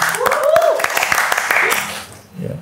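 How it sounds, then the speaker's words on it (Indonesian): Brief scattered applause from a small studio audience on an Indonesian talk show, greeting a guest introduction, with sharp claps standing out under a voice that cheers over them before fading. "Wah, tepuk tangan dong"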